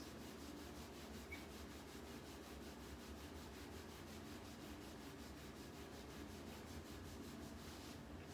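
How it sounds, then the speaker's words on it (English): Steady, continuous rubbing of hands over skin along the spine during a Tui Na massage, a soft even swishing texture sustained throughout without pauses, alone with no talking. "So that is rubbing."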